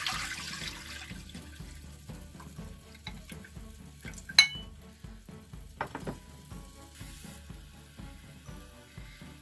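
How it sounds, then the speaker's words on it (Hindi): Chicken stock pours into a lightly warmed pan for hot and sour soup, a steady close liquid splash and faint sizzle with a few clinks of utensils, no voices. "पैन को थोड़ा सा गर्म कर लेंगे और उसमें जो स्टॉक है वो डाल देंगे।"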